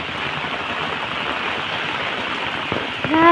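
Rain falls steadily as a dense, even patter near a prayer hall during the monsoon season, with a faint tonal squeak near the end.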